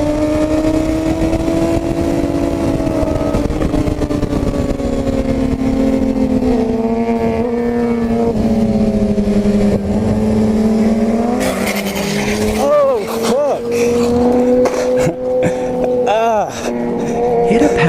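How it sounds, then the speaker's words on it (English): A motorcycle pushed hard on a mountain road loses rear grip and low-sides. A steady, loud engine drone runs throughout, then breaks into sudden bursts of noise toward the end. "Pushing the limits on a legendary mountain road can instantly result in a brutal low-side washout if your rear tire loses grip."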